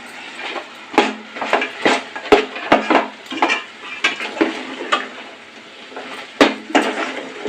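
Mutton pieces being mixed by hand or spoon with red chilli powder, coriander powder and garam masala in a bowl, giving a string of soft squelching, scraping stirs with irregular clinks, close and alone.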